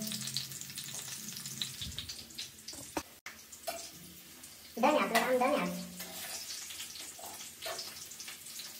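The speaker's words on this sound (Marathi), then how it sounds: "बट्ट्या तळल्या जातात." Batti dough balls fry in oil with sizzle, bursts of bubbling and clatter, partly under a person talking, swelling louder midway before settling.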